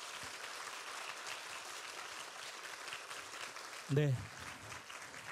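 An audience at a Korean traditional music and dance performance claps in a steady, moderate round of applause, with a brief spoken word near the end.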